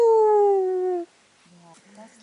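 A voice imitates a whistling kite's call, a long descending whistled note followed by short lower hoots, close and clear.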